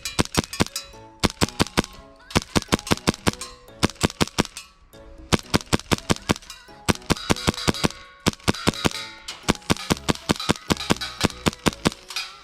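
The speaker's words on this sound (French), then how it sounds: "Je tire sur des cibles donc de la taille d'une tête humaine. Je fais de la rafale, elles y vont toutes" A fully upgraded custom Hi-Capa airsoft pistol fires rapid full-auto bursts at head-sized targets about 20 to 25 metres away, giving sharp clacking shots in repeated rapid strings separated by short pauses, close and loud.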